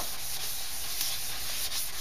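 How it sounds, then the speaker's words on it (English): Plastic headlight lens wet-sanded by hand with roughly 400 to 600 grit sandpaper, a close, continuous hissing rub with faint stroke pulses and no talking. "And wet sand it,"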